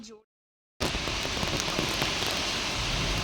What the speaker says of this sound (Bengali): আমাদের এখানে ঝড় বৃষ্টি শুরু হয়ে গেছে